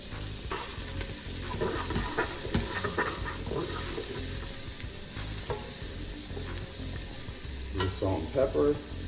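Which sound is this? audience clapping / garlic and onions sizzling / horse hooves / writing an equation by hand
garlic and onions sizzling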